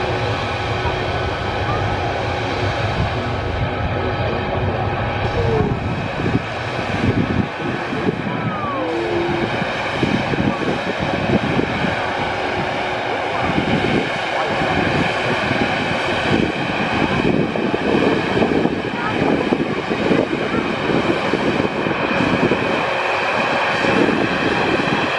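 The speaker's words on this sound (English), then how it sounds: "We'll shortly see the Airbus A380 appear out of the cloud." An Airbus A380 airliner descending on approach to Manchester Airport gives a steady, broad jet roar at a distance, blended with wind rumble and faint talk throughout.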